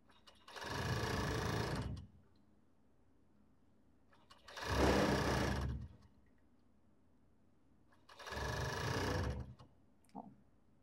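Sewing machine stitching fabric for a long-sleeved robe, three bursts of fast, close whirring of about one to two seconds each, separated by quiet pauses.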